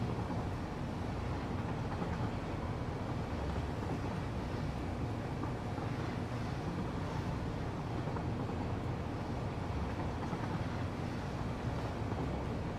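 A train runs along its line in Satisfactory, heard as a faint, steady low rumble with a light rushing hiss that stays even throughout.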